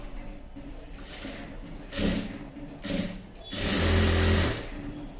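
A sewing machine stitches the shoulder seam of a child's frock in three short bursts of rapid mechanical whirring, the last one the longest and loudest, with quiet handling between them.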